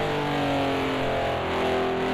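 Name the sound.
race car engine slowing down, video game Project Cars 2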